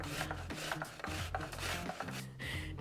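Onion grated by hand for baked chicken meatballs, a quick run of close scraping and rasping strokes with soft wet crunches, fairly quiet and alone.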